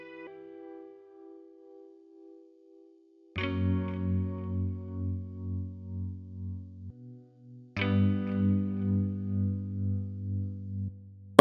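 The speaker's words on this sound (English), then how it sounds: "So it's like an echo." Heritage Audio vintage-style echo plug-in applied to a synth-like instrument, sustained chorused tones swelling in with pulsing, warbling repeats, two strong attacks each followed by shimmering modulated decay, no talking.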